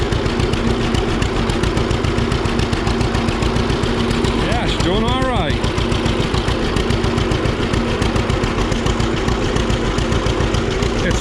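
A John Deere A tractor that had sat for three years idles on its magneto ignition through a short, stubby exhaust, a steady close thumping pulse throughout, with a voice speaking briefly over it.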